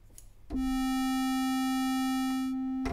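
Halion 6 wavetable synth morphing between square, sine and triangle waves: a single sustained bright tone starts abruptly after a short pause and holds steady and loud, rich in even harmonics.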